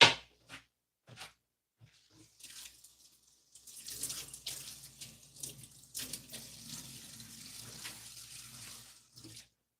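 A bell pepper is rinsed under a running kitchen tap, the water splashing and gurgling softly in bursts with faint handling clatter and short pauses in between.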